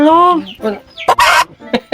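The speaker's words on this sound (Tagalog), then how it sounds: "May manok na naman naglilimlim." A brooding hen clucks and squawks loudly up close, a run of short choppy calls with rising, strained notes.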